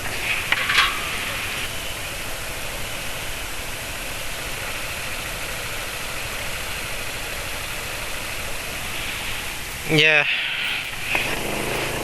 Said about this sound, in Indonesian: ini suara mesinnya kayaknya lebih halus daripada ketika